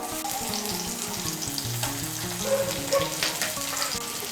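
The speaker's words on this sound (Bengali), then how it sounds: "আদা বাটা, রসুন বাটাটাকে মিশিয়ে নেব তেলের সঙ্গে। মিশিয়ে নিয়ে একটু ভেজে নেব।" Ginger paste and garlic paste sizzle in hot oil in a pan, a steady crackling fry with brief stirring scrapes, close and fairly quiet with no voices.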